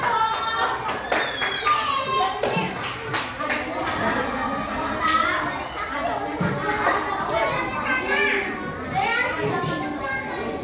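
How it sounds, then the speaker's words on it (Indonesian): A classroom group of children claps and chatters for group number one, a dense wash of overlapping small-hand applause mixed with lively kid voices, fairly close and continuous throughout. "Tepuk tangan untuk nomor 1."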